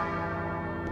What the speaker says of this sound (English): There's got to be something to do with ringing the bells